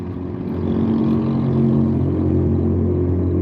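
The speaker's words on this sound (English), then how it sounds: "that truck is so noisy when they put those big mufflers on there" A loud truck fitted with big mufflers rumbles past, a deep throaty roar that swells within the first second and holds heavy and close to the end.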